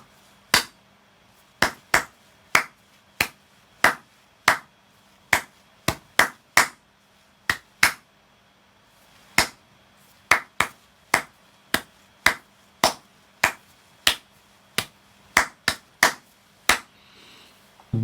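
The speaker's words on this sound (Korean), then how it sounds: "우리나라 사람들이라면 다 알만한 곡을 박수로 연주해 보겠습니다" A single pair of hands claps out the rhythm of the Korean national anthem, sharp isolated claps in an uneven melodic pattern over a quiet room, close and clear, with no talking.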